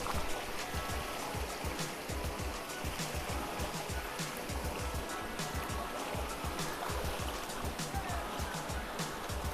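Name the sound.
fast-flowing river water near a waterfall in Assam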